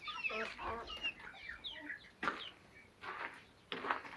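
A hen clucks in a henhouse: a run of soft, close clucks, then a few sharper, louder calls spaced apart, with no talking.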